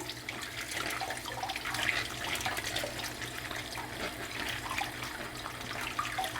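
Tap water runs steadily as salted cabbage leaves for kimchi are rinsed under the stream, a continuous close splashing wash with no talking.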